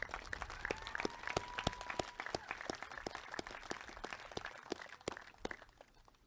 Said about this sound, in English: Another round of applause for Hannah.